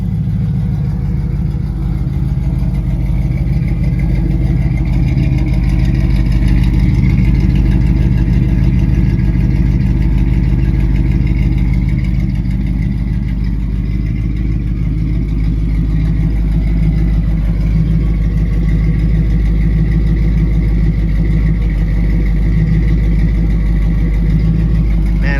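A 1973 Oldsmobile Omega, a GM X-body car with dual exhaust, idles close by in a steady, deep, low rumble that holds an even level throughout without revving.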